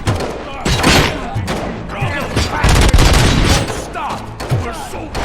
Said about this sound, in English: Am I hearing gunshots?